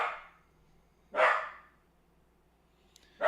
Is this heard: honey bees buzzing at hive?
no